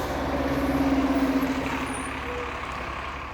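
A white bus pulls in to park outside a motel, its engine rumbling low and close, followed by a brief hiss of air brakes as it settles to a stop.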